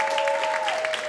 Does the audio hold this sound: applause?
yes